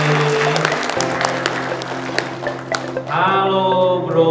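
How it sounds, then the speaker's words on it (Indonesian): Audience applause for two company founders at a cleaning product business event, a steady wash of clapping under sustained music that shifts to a brighter tone near the end. "Tepuk tangannya lebih heboh lagi dong buat dua rekan saya ini."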